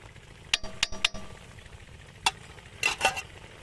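Chicken with tikka boti masala spices is stirred in a pan, giving a few sharp metallic clinks and scrapes of a spoon over a faint sizzle, in short irregular bursts.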